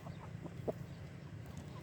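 A hen in a coop basket clucks softly with a few short, faint calls over a quiet low background hum.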